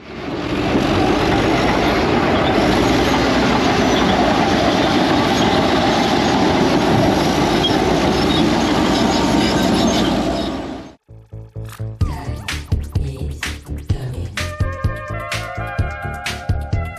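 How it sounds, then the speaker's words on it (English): A steam tractor runs at a Caterpillar centennial celebration in Iowa, giving a loud, continuous rumbling roar that cuts off abruptly, followed by a series of sharp, rhythmic chuffing bursts. "This steamer tractor is amazing."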